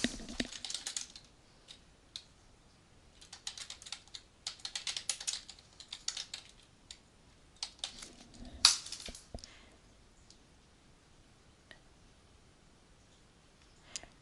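Bursts of typing on a computer keyboard: quick, light key clicks in short runs separated by pauses, fairly quiet and close, with a sharper click near the end.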